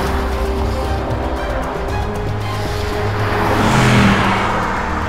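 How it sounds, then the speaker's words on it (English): A Mercedes-AMG GT S with a 4-litre twin-turbo V8 revs hard, its loud engine note building and swelling toward a peak before easing slightly. "as soon as you start that 4-litre V8, man, it sounds fantastic."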